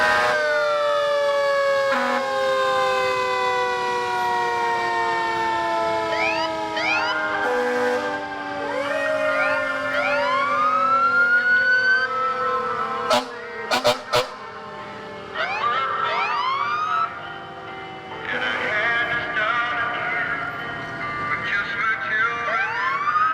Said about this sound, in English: for the fire engines that are out here, at the count of 3, I want you to do all the horns, all the sirens